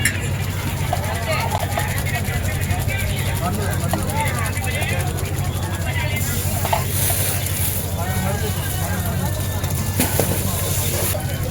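Ginger garlic paste sautéing in oil in a pan while cooking beef curry, a steady loud sizzle throughout with a low hum underneath and occasional kitchen clatter.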